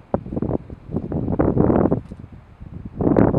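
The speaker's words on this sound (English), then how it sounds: "the wind is blowing and it is bitter cold" Bitter cold wind gusts across a snowy Sierra mountainside near Cathedral Peak. Rushing, buffeting surges beat against the microphone, rising and falling in waves, with no talk.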